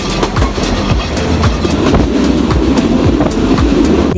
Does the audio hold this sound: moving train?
yes